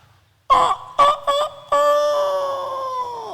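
A voice imitates a rooster crowing, giving several short clipped calls followed by a long drawn-out cock-a-doodle-doo, loud and close, with no other talk.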